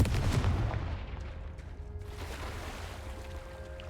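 A Confringo fire spell from Hogwarts Legacy on PS5 goes off as a heavy, booming blast, loud at the start and then rolling into a sustained rumbling roar with game ambience and faint tonal music beneath.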